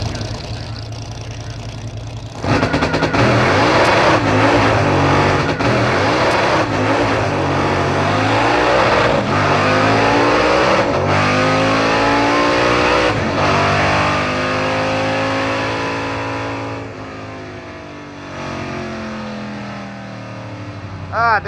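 A 1955 Chevy drag car at a drag week event roars off the line, its engine rising into a loud, sustained high-revving blast that sweeps in pitch as the tires spin, then fades as it pulls away down the strip.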